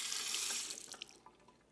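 Water gushes from a bathroom tap during a double-edge razor wet shave, loud and steady at first, then tapering off into a few drips and splashes as it is shut off.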